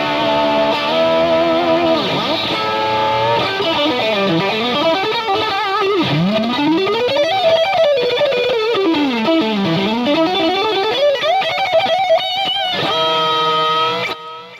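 A cheap Squier Stratocaster electric guitar played through its stock pickups into a distorted amp: loud, sustained gritty chords and sliding lead lines that sweep up and down in pitch, continuous for about fourteen seconds before ending in a ringing chord.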